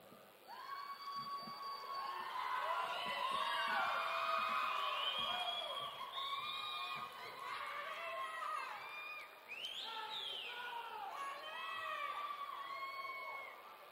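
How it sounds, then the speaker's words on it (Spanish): Audience cheering and shouting for a folk ballet troupe at a folklore festival, a dense crowd roar of whoops and voices sustained loudly throughout with slight swells. "Los recibimos con un fuerte aplauso."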